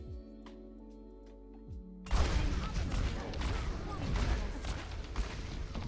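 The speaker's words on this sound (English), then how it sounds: "you reload, fan the hammer, roll, fan the hammer" A revolver has its hammer fanned in the game Overwatch as rapid gunfire bursts out after a low tonal intro, forming a dense, loud volley of overlapping shots that carries through to the end.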